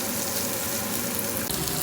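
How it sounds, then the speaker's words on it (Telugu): Chopped ivy gourd (tindora) pieces frying in oil over a middle flame, a dense, steady close sizzle running without a break, with a brief stir near the end. "మధ్య మధ్యలో కలుపుకుంటూ ఈ విధంగా వేయించుకుందాము"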